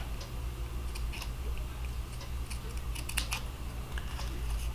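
Scissors trim a thin strip across the top of a handmade thank-you card, giving faint, quick snips spread across a quiet room hum.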